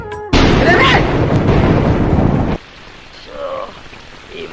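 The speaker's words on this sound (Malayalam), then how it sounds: "ഈ മഴ കണ്ടോ?" Heavy rain pours down in a loud, dense roar for about two seconds, then cuts off abruptly to a much quieter background where a voice is briefly heard.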